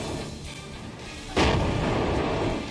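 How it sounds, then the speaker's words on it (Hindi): 155 mm Bofors howitzer fires once midway, a sharp heavy blast that rises out of a rumbling outdoor background and then rolls on in a long echoing boom. "भारत की लिस्ट में सबसे पहला हथियार है 155 mm हॉविट्जर तोपें, जिसे आम भारतीय बोफोर्स के नाम से भी जानते हैं।"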